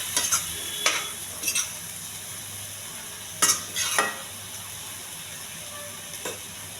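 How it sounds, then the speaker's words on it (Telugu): Boiled eggplant and masala are stirred together in a curry pan over a faint sizzle, with a few distinct scraping strokes spaced through the mix. "బాగా కలపాలండి మసాలా అంతా పట్టేంత వరకు."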